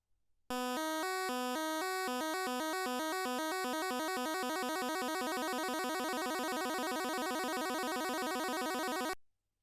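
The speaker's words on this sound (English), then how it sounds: "Arpeggios allow one channel to play a chord by quickly switching from one note to another." Rapid buzzy square-wave arpeggios from a single 8-bit chiptune channel flicker through a series of chords, bright and continuous, then cut off abruptly.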